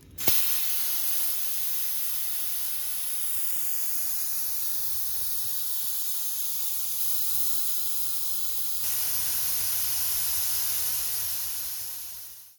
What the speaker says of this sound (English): So right now we're going to deflate this tire to 15 PSI